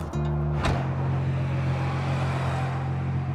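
A 480-horsepower sports car with a six-speed gearbox pulls up close by in Kofu, Japan, its engine settling into a steady low idle rumble after a brief burst of noise.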